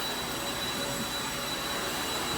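A Kirby vacuum cleaner picks up dog hair indoors, giving a steady, loud, close motor whine and airy roar with no pauses or talk.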